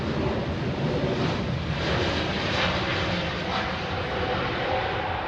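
An airliner taking off from runway 27R at London Heathrow Airport roars in a steady, broad, loud engine rush that holds without a break, with no voices over it.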